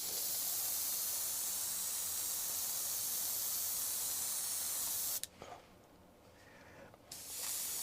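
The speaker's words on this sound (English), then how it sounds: "I'm just going to spray this off camera." A steady, loud hiss of compressed air spraying weathering onto a model boxcar, cutting off abruptly, then resuming after a short near-silent pause.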